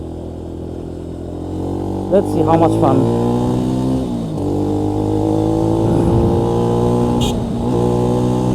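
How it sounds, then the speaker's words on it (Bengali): Speeder NSX 165R V3 motorcycle ridden with traction control and ABS switched off, a loud steady engine drone with harmonic whine and brief revving surges, a rider's voice speaking over it. "এখন আমরা বাইকটা চালাবো ট্র্যাকশন কন্ট্রোলের এবিএস অফ করে"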